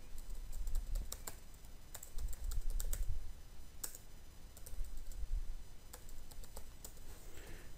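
Login credentials are typed on a computer keyboard as sharp, irregular key clicks in quick bursts with short pauses between them, heard up close and quiet.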